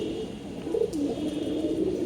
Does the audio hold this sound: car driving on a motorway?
no